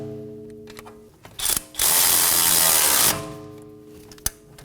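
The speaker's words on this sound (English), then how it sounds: "Now snug these down with a socket on one side and a wrench on the other side" A ratchet socket and wrench snugging down camber adjustment bolts on a 2015-2023 Nissan Maxima front suspension: a few isolated clicks, then a rapid continuous ratcheting burr lasting over a second, close and clear, followed by a final tick.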